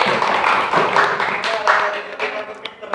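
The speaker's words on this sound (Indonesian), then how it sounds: "Beri tepuk tangan untuk Muhammad Rizkillah." Students clap together in a classroom, a dense burst of applause that fades gradually over a few seconds.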